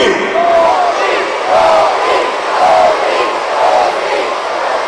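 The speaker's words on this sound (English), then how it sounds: "Oh, you can cheer Kofi! You can chant Kofi!" A wrestling arena crowd chants in loud, rhythmic bursts, roughly four repeated two-beat calls rising and falling in a steady cadence and filling the whole clip.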